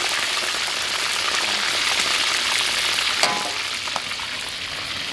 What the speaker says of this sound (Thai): ทอดปลาครับให้สุดทีละข้างครับ